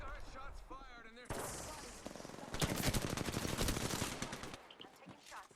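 Rapid gunfire in the Apex Legends video game, with loud bursts of automatic shots building into dense continuous fire, then tapering off. A voice is heard at the start.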